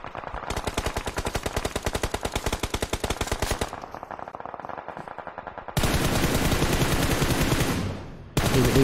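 Automatic gunfire in the mobile battle-royale game PUBG Mobile during a tournament match: long rapid bursts of rattling shots, a brief lull, then a denser, louder volley of continuous fire near the end, with no talking.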